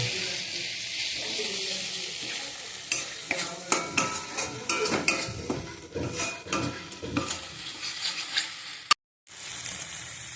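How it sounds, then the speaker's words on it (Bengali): Spice masala with green chili and mustard paste being stir-fried for a Bhola fish curry, a loud bright sizzle under a rapid series of metal spatula scrapes and clinks against the pan, then a brief pause as the sizzle resumes. "ভালো করে নাড়িয়ে চাড়িয়ে একটু কষিয়ে নেব।"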